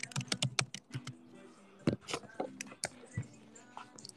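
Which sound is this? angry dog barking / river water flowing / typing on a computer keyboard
typing on a computer keyboard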